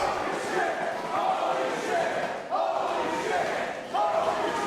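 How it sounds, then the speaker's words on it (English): Packed wrestling crowd at the Houston Premier Arena chanting in rhythmic waves, a loud, dense roar that swells and dips in repeated bursts around a live match. "I echo these chants of this crowd here at the Houston Premier Arena."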